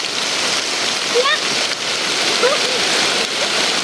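Heavy rain pours steadily over a forest, a dense, even hiss of drops with a couple of faint bird chirps poking through.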